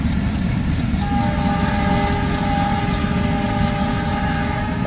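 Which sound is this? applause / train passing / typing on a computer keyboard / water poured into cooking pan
train passing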